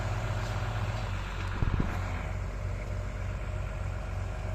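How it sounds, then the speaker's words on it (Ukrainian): An MTZ tractor fitted with a Mercedes engine runs steadily nearby, a constant low, rumbling drone with a brief knock partway through, loud and continuous without talk. "МТЗ з мерсовським движком"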